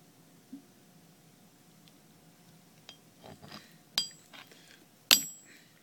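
A spent brass case is being deprimed by knocking out its Berdan primer on an anvil: several faint taps, then a sharp metallic clink near the end, close by in a quiet room.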